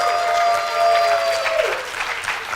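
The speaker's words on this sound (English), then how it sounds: "Give a round of applause." A conference audience at a Node.js and Azure Cosmos DB talk claps in a sustained burst of applause, with a few whistles carrying over the crowd.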